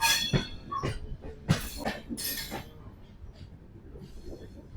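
Maurya Express train in motion heard from inside a sleeper coach, with rumbling wheels on the rails, a few sharp clanks and hisses early on, then a softer steady run.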